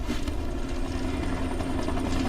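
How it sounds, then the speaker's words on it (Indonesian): A helicopter drones steadily and loudly in the game Dying Light, a constant low rotor rumble holding throughout without a break. "Helikopter."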